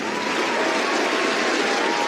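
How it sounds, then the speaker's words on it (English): Applause for a volunteer award during an online annual lunch-in event: a steady, dense patter of many clapping hands, fairly loud and unbroken for the whole stretch. "Now let's all join in a virtual applause to celebrate Ashley's recognition."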